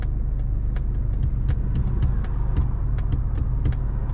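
A Mazda CX-50 Select drives through Friday afternoon traffic near gravel, with a steady low engine and road rumble inside the cabin and faint ticking and clicking sounds scattered over it.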